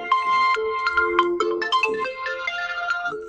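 A phone ringing on an outgoing call, a steady electronic ringback pattern of repeated tones with no voices, fairly loud and continuous.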